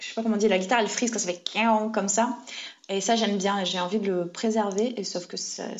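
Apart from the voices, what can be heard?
No distinct noise like a dog, phone or traffic.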